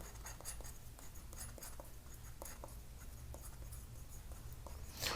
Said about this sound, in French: Je vais mélanger mon bleu cyan à moi avec le jaune.